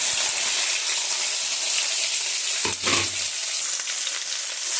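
Sliced onions go into hot coconut oil with garlic and dried red chillies, giving a loud, continuous close sizzle with a brief scrape or thud from a spoon partway through.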